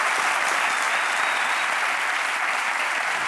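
A studio audience at a Spanish late-night talk show breaks into loud, dense applause that stays even and continuous from start to finish, with no talking over it.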